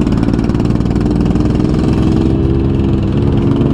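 A motorcycle engine idles steadily at close range, a continuous low rumble holding the same level throughout with no revving or talk over it.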